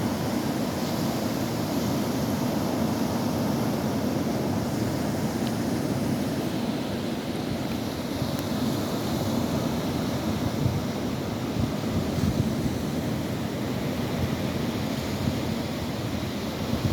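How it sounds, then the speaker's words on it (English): Surf and wind at Fort Macon Beach form a steady, broad roar, waves washing continuously under gusty wind buffeting the microphone, with no distinct breaks or voices. "It's a beautiful day at Fort Macon Beach."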